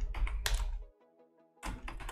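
Close computer keyboard typing of a terminal command on Ubuntu: a quick burst of clattering keystrokes, a short pause, then another fast run of keys, with no talking.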